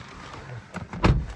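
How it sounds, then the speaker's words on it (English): A 2017 BMW X4 28i door swings shut with a single solid thump near the end, loud and close, followed by a quieter cabin. "when I closed this nice door here, all of that highway noise just went right away"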